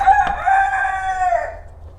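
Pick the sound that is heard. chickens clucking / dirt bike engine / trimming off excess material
chickens clucking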